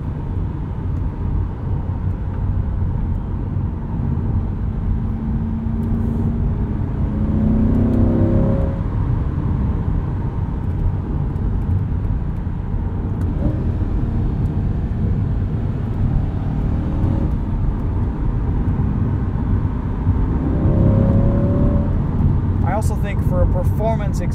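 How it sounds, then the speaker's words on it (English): A 2020 C8 Chevrolet Corvette Stingray Coupe engine drones steadily while driving on a backroad, with a couple of mild rising revs; the exhaust note stays fairly subdued and low. "exhaust on this Corvette, it's pretty tame"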